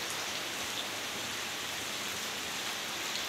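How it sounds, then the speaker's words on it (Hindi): Heavy rain pours down in a dense, even hiss that stays loud and unbroken, with nothing else rising above it. "दोस्तों ये देखिए काफ़ी तेज़ी से बारिश हो रही है"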